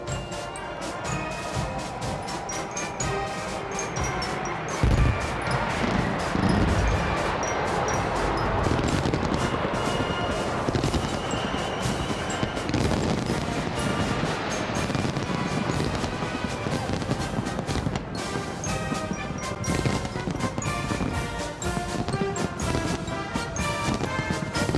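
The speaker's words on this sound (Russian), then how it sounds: "Знаменование Дня военно-морского флота – салют корабельной артиллерии" Naval ship artillery firing a salute during the Navy Day parade in Saint Petersburg, a dense, continuous barrage of loud booming reports with crowd or ambient noise throughout.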